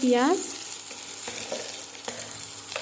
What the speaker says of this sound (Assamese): পিয়াজখিনি অকমান মই ভাজি লৈছো